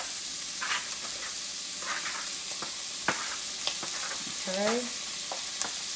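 Shrimp, tomatoes and parsley frying in a pan for a New Orleans shrimp dish give a soft, steady sizzle close by, with scattered clicks and scrapes of stirring and a brief spoken word.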